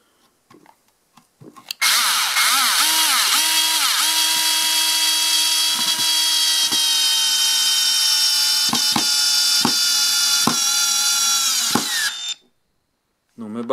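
A Bosch PSR 200 LI cordless screwdriver drives a 5 cm screw with a Phillips bit. The motor whirs loudly and continuously for about ten seconds, with a few sharp clicks near the end before it stops.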